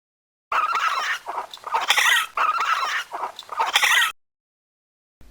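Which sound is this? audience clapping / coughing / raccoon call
raccoon call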